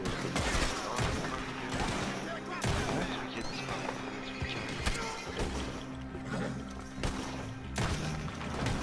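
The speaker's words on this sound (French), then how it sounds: "Faites gaffe, il y a une mitrailleuse, les gars." Rapid bursts of machine-gun fire in the online Western shooter Red Dead Online, dense and repeated over mixed game noise and thuds, with players talking over it.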